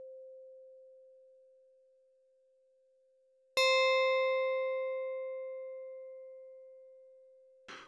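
An FM synthesizer tone: a pure sine-like pitch fades, then a bright metallic plink with bell-like overtones strikes over the sustained tone and decays slowly, clean and isolated.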